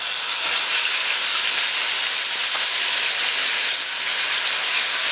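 Onion paste frying in about four tablespoons of oil in a frying pan on medium-low heat, a loud, steady, close sizzle and hiss that carries on without a break.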